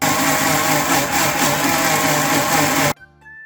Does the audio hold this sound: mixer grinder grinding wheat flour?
yes